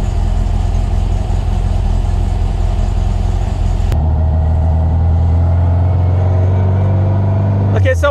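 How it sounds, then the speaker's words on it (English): A motorcycle engine with a Blues 39mm carburetor warms up on choke, idling steadily and loudly up close. The tone shifts partway through as the idle settles, with a brief burst near the end. "I'm waiting for the choke to come off completely because that's gonna choke the engine"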